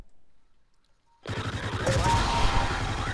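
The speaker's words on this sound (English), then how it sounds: "we're gonna have a machine gun thing here, and this one's called the Imperial Heavy Repeater" An Imperial Heavy Repeater blaster machine gun in a Star Wars weapons mod for Garry's Mod opens up after a second of near silence, a loud continuous rapid-fire stream lasting to the end.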